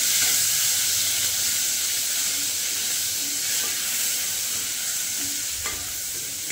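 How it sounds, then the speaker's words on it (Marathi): Ginger garlic paste sizzles steadily in hot oil in a pan during biryani preparation, a continuous loud frying hiss with occasional spatters and no speech. "टाकू अद्रक लसूणची पेस्ट"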